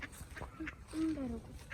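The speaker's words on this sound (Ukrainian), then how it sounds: "Ось о качки які" Ducks quack in a few short nasal calls, fairly close, mixed with people chatting and outdoor background noise.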